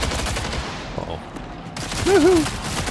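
Video game gunfire rattles in rapid bursts of shots, moderately loud amid game noise, with a brief lull midway before firing resumes.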